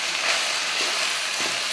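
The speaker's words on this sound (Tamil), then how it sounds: "இதையும் நல்லா வதக்கிடுவோம்" Home-grown mint leaves and tomatoes sauté in a pan with a continuous, even frying hiss and faint stirring movements underneath, moderately loud and steady throughout.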